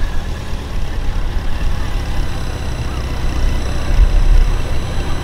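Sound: 1300cc police motorcycle pulling away

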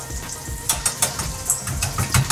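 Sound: bacon frying in a pan for carbonara

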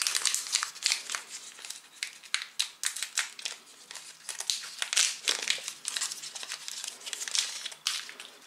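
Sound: opening the wrapper of a multigrain chocolate-glazed candy bar

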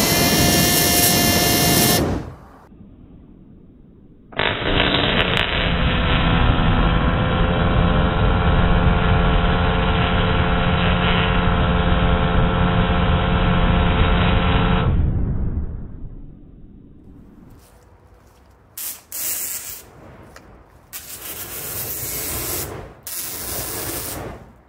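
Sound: Super Villain Supply flamethrower shooting flame

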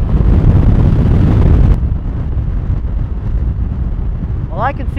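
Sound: Honda Pacific Coast 800 motorcycle cruising on interstate

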